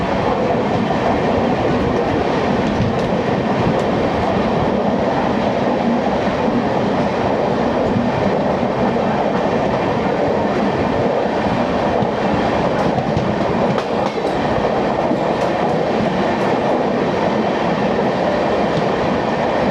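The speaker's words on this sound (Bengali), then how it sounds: "নমো ঘাট ক্রস করেই আমরা এখন ক্রস করছি কাশী স্টেশন" Amrit Bharat Express train running past Kashi station, with a steady, loud, continuous roar of wheels and carriages and faint rhythmic clatter throughout, heard from on board with no voices.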